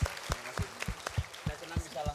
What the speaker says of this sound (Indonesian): boleh tepuk tangan sekali lagi dong buat Pak Budi dan Dani